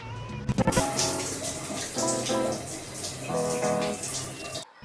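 A bathroom tap runs steadily while someone brushes their teeth, the water stream loud and close with brief clatter at the start and the flow cutting off at the end.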